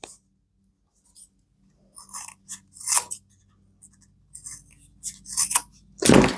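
Scissors trim the fabric corners of a sewn tote bag, giving a few sharp close snips and clicks spaced apart over quiet.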